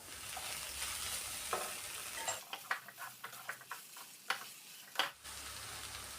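Soy chunks frying and being stirred in a pan with chilli powder, chicken masala, pepper and turmeric, a soft sizzle under repeated close scrapes and clinks of a spoon against the pan.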